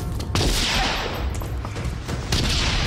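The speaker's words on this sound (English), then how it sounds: "Why are we getting shot at?" Gunfire bursts from an action scene in Terminator 2, loud rapid shots with booming impacts that come in two clusters.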